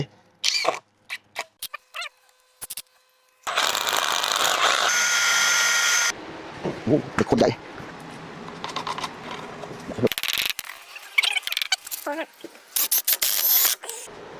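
An Osuka 821 impact driver drives long screws in bursts of rapid, rattling hammering, with loud stretches of continuous whirring between quieter pauses and clicks.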